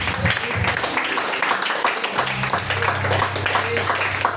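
Church congregation at a worship service clapping and acclaiming, a steady wash of applause running throughout with voices rising over it.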